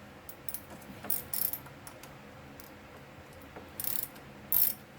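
A ratchet fitted with a 5/16 socket works on the carburetor of a Simplicity SS822ex snowblower, giving a few quiet, brief clicking bursts over faint background hiss, with no talking.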